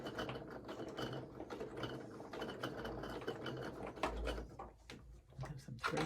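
A sewing machine stitches over a fabric ornament, giving a faint mechanical clatter in short bursts and pauses, with quiet ticks and clunks between runs.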